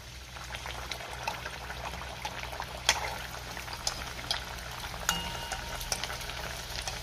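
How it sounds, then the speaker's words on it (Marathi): Leftover rice vada deep frying in hot oil, a continuous close bubbling sizzle with scattered pops and spoon clinks as oil is ladled over the fritter. "दुसराही वडा आपण तळून घेऊया।"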